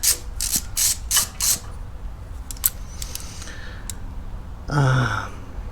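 A ratchet wrench with a 13/16 wobble socket clicks in quick close bursts while loosening a spark plug on a Kawasaki FR730V lawn mower engine, followed by lighter metallic taps and a short rubbing scrape.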